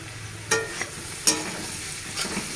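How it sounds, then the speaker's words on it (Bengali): Food sizzles steadily in a hot frying pan while a utensil stirs it, with a few sharp scraping strokes standing out over the continuous frying hiss; no talking. "নাড়াচ্ছি, ভাজাটা করছি।"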